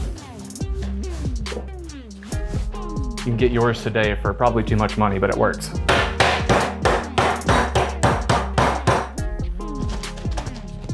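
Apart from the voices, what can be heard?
crushing ice with a mallet in a Lewis bag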